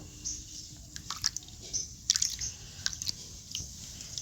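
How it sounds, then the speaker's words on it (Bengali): Fresh whole prawns are washed by hand in water, giving soft wet splashes, squishy handling and intermittent drips close by, in short irregular bursts with no talking. "চিংড়িগুলো খুব ভালো করে জল দিয়ে ধুয়ে নেবো।"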